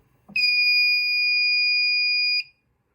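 Fire-Lite MS-9600UDLS fire alarm system sounding during a system test, a single sustained electronic tone lasting about two seconds, loud and clear, then cutting off into silence.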